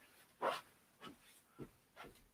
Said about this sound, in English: My dog keeps banging on the door.